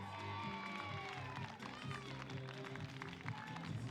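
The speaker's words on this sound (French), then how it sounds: "Allez, on peut les applaudir bien fort encore" A crowd applauds and cheers the arriving Sporting Schiltigheim women's under-17 blind football team at a French Grand Prix match, with steady clapping carrying under a loud announcer's voice.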